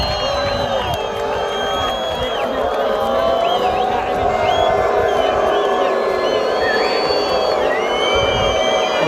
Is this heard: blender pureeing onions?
no